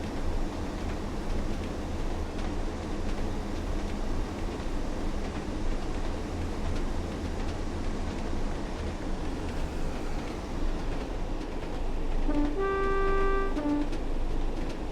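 A train rolls steadily along the rails with a continuous rumbling clatter heard from inside the cab as it approaches a station, and a short two-tone horn sounds near the end.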